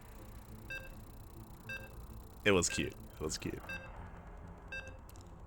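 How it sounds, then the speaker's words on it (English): Short electronic beeps from a StarCraft match loading at a Brazilian offline playoff series, repeating at regular intervals, with voices talking partway through. "You can hear the beeps. We are loading into our series."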